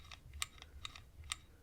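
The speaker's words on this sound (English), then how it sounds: "That's rubbing and then clicking." A La Gard 2270 safe lock is dialed, its internal wheels giving faint rubbing with a few sharp, light clicks spaced irregularly, close and quiet.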